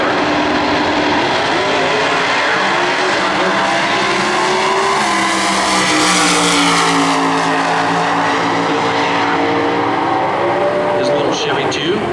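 Drag racing cars at full throttle at a Division 3 points race in Norwalk, including a Chevy II, with a loud, sustained engine roar whose pitch climbs steadily as the cars run down the track, under a commentator talking.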